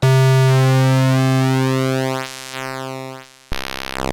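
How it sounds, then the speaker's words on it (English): A sustained square wave from a Cre8audio analog synthesizer drones loudly, its timbre shifting as the pulse width sweeps, then thinning out before a brighter, buzzier tone cuts in. "For the square wave, we can also change the pulse width."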